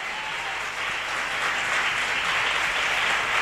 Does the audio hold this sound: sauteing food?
no